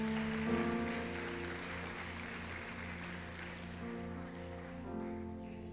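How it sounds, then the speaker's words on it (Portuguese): Applause from a church congregation, a steady wash of many hands clapping throughout at moderate level, with a sustained tonal hum or organ-like drone underneath. "Aplauda Jesus mesmo."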